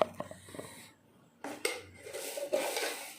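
A spoon clinks against a pot while adding sugar to tea being made with Darjeeling tea leaves, a few light metallic taps and scrapes that come close and fairly clear, with no talk.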